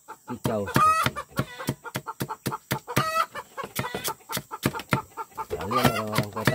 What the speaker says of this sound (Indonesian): Ayam kalau udah keluar telurnya,